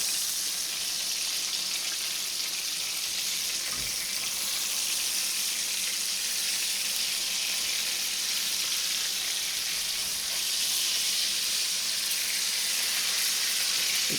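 Burgers fry in a pan with a dense, constant close-up sizzle and hiss that hardly varies in level, one faint knock partway through and no voices.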